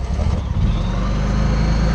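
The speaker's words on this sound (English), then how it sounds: "So now to start the generator over here" A backup power generator engine cranks and catches, settling into a steady, loud, low running drone close by, with no talking.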